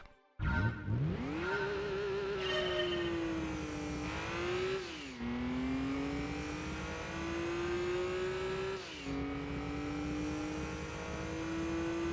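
A Nissan Skyline GT-R V-Spec racing in Gran Turismo 2, its engine revving up hard from a start, then climbing through gears with sharp drops at each shift, a loud continuous whine throughout.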